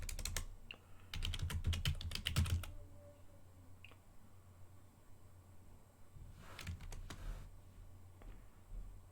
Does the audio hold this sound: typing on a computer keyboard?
yes